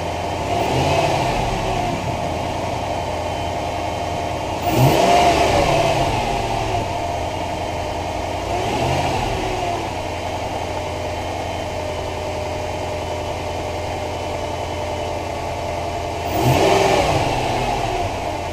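Jeep Commander HEMI V8 fitted with an AFE Magnum Force Stage 2 cold air intake, idling steadily then revving in three throaty bursts spaced several seconds apart, heard close by with no talking.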